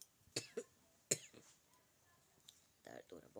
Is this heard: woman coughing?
yes